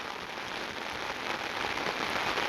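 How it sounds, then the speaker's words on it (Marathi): Steady rain falls over farm fields in Pathardi taluka, Ahmednagar, Maharashtra, a dense continuous hiss of drops on the ground that holds at an even level throughout, with no voices. "चांगला पाऊस चालू झालेला आहे"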